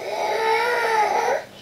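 A young child cries and wails in a short, steady burst, heard from a moderate distance in a home kitchen.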